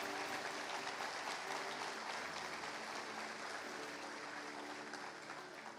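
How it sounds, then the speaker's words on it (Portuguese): Church congregation claps loudly for Jesus Christ, a dense, steady wall of applause that fills the space and eases off slightly toward the end. "dê uma salva de palmas bem forte a Jesus Cristo"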